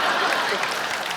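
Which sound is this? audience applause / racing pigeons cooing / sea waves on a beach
audience applause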